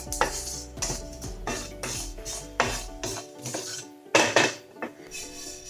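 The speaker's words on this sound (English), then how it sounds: "Now let's roast the sesame seed until it turns into a golden color." Sesame seeds dry-roasting in a pan, stirred with a metal utensil that scrapes and clinks against the pan in repeated rhythmic strokes, up close and fairly loud.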